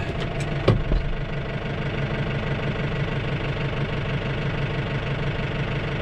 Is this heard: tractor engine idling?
yes